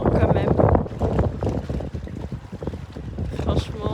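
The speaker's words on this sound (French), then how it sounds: "Il y a du vent hein, quand même." Strong wind buffets the microphone outdoors under an autumn sky, a loud, gusty roar that rises and falls for several seconds, with someone speaking faintly beneath it.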